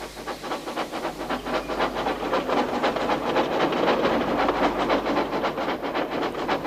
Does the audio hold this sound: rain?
no